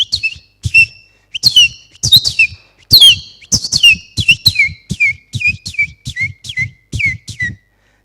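A human voice whistles an imitation of birdsong: a series of sharp, high chirping phrases, each slurring downward, repeated in a quick irregular rhythm, loud and close with brief silences between them.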